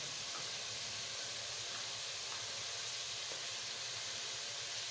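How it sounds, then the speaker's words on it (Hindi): Tomato masala with garlic and ginger frying in a pan for an egg masala dish, a steady soft sizzle and hiss throughout, faint and even with no talking. "इनको भून के थोड़ा सा भून लेते हैं ना, ताकि टमाटर अच्छी तरह गल जाए। लहसुन और अदरक डाल देते हैं"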